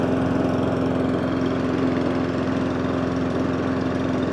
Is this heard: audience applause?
no